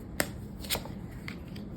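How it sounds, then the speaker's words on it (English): Tarot cards being shuffled by hand, a few quick soft riffling bursts close up and fairly quiet, separated by brief pauses, with no talking. "I'm going to shuffle tarot on camera"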